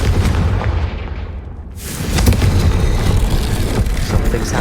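A Confringo fire spell blasts in Hogwarts Legacy, a loud booming burst that opens into a sustained fiery roar and rumble over game ambience.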